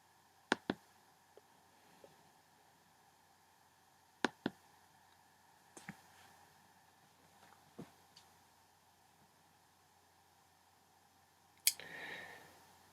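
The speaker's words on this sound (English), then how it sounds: "as we click the Mobilize button, the number of troops automatically goes up." Mouse clicks in an online World War I simulation, a few sharp isolated clicks, some in quick pairs, spaced across a quiet stretch with faint background noise.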